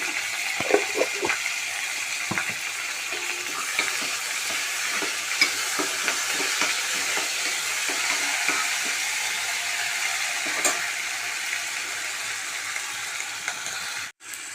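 Ginger-garlic paste fries in a pan with a steady, close sizzle, broken by the repeated scrape and clack of a spoon stirring. The sizzle keeps going until a brief knock near the end.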